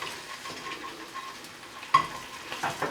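Freshly home-ground beef sautés in a pan, giving a soft, continuous sizzle with light scraping and stirring on top.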